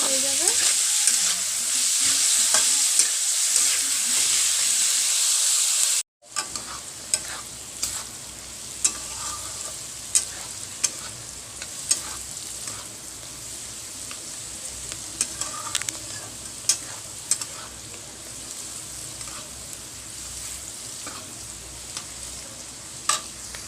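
Vegetables for fried rice sizzle in a pan, starting with a loud hiss that cuts off abruptly, then a steady low frying sizzle punctuated by sharp clacks of a spoon stirring against the pan.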